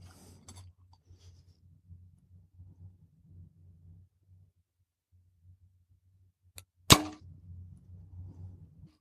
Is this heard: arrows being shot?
yes